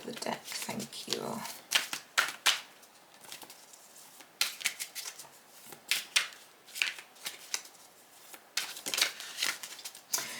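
A tarot card slid off the top of a deck, heard as soft papery flicks and shuffling rustles that come close and repeat in quick bursts, with a voice talking over them.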